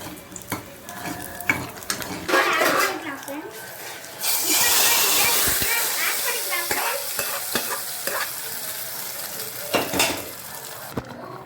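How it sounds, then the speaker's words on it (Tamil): Cashews fry in ghee in a pan for a cooker sambar rice, a steady sizzle broken by stirring scrapes and clinks of a utensil against the pot, with bursts of louder frying midway. "இதில் கொஞ்சமாக நெய் ஊற்றி முந்திரி பருப்பு போட்டு ஆட் பண்ணிக்கலாம்"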